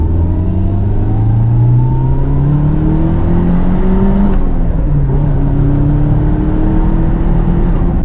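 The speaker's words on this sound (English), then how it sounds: "Damn, this car is quick with the T28 turbo." An SR20-engined Nissan S13 with a T28 turbo revs hard and climbs steadily in pitch as it accelerates, with a turbo whine layered over the loud, close drone, briefly dipping at a shift.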